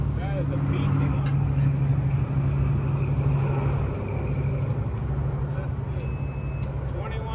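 A John Deere 310SE turbo 2WD backhoe engine runs at a steady, loud diesel idle with a low droning hum throughout, easing slightly partway through, while someone talks over it.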